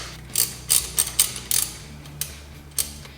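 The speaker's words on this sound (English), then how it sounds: "I'm going to loosen this little throttle body cable bracket right here." Under the hood of a 1988 Isuzu Trooper, a ratchet loosens a throttle body cable bracket with a rapid run of crisp, close clicking strokes in a steady rhythm over a low background hum.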